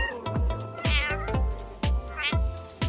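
A cat meows repeatedly, with loud drawn-out rising and falling calls close by and several quick meows in between, over a constant backdrop of other sound.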